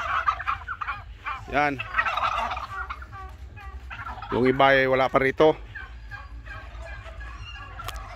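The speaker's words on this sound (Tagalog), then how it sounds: "Mga alaga kong pabo." Pet turkeys gobbling outdoors on a ranch, two loud bursts of rapid warbling calls a few seconds apart, with someone speaking briefly between them.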